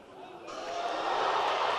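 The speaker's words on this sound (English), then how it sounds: "The crowd likes it." Crowd noise at an NCAA Division III indoor track and field championship swells from a murmur into a broad, rising cheer, heard faintly behind an announcer talking.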